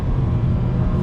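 A 2020 Toyota 86 Hakone Edition with automatic transmission downshifting under braking, a loud close engine rumble with a brief rev blip, heard from inside the car.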